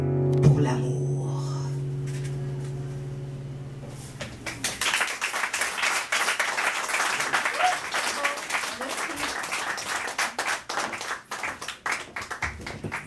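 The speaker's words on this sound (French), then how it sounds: "Applaudissez-le encore une fois, s'il vous plaît." After a guitar-accompanied poetry performance, a fading musical note gives way to an audience breaking into lively applause, with crisp individual claps building and continuing at a steady level.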